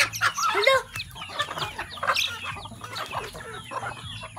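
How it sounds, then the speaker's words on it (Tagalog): Farmyard chickens cluck in short, irregular bursts close by, several birds overlapping over a low steady background hum. "Manok mo kasi Proktoy."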